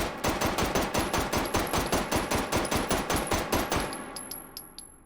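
A rifle fitted with a compensator fires a rapid automatic burst of about twenty-five sharp, evenly spaced shots, loud and close, ending in a brief decaying ring.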